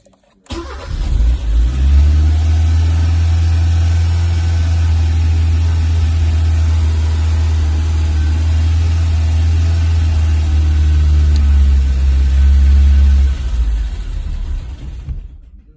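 A Chrysler Alpine engine with an erratic idle runs loud and steady with a deep rumble on choke, holds for several seconds, then stalls as the choke is pushed in, abruptly cutting out and falling quiet.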